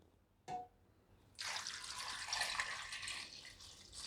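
Water pours into a pressure cooker full of potatoes, starting with a short splash, then a steady, close stream that fills the pot for a few seconds, no talking.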